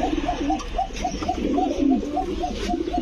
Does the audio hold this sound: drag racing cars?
no